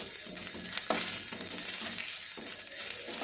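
Red chilli powder being stirred into tamarind chutney in a pan, a steady scraping stir over a low sizzle, close and continuous with a couple of sharper clinks, no talking.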